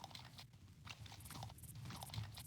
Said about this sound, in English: It's got kind of like a chewing sound effect for walking around